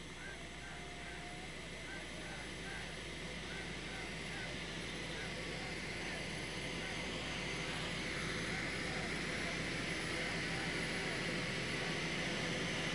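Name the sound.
airplane engine running as team disembarks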